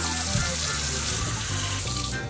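Tap water pouring continuously into a container to fill a pet swimming pool for dogs, a steady close gushing splash with no talk.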